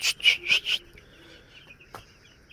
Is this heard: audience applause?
no